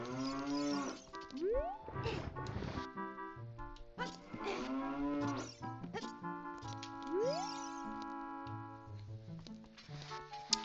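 Cows moo repeatedly in a Zelda game, Ocarina of Time and Majora's Mask, each long low call rising and bending in pitch, close and loud, with game music and effects running underneath and no talking.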